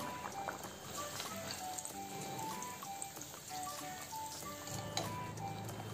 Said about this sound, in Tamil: ஆயில் ஹீட் ஆனதும் ஒரு பூரி எடுத்து இப்படி உள்ளாடி வச்சுட்டேன்